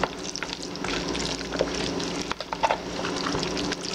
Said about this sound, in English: I'm just gradually adding the noodles and sauce to see what I need to use more or less of. So I'm still mixing.